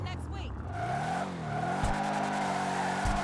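A video game car skids through donuts with a continuous tire squeal and revving engine, pitch bending as it turns, while a voice talks over it.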